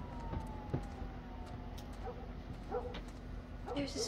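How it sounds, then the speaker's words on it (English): A dog barks and whimpers in The Last of Us on PS5, sharp yips scattered through the clip over a low game ambience with a faint siren-like tone, at moderate distance. "Someone shut the dog up."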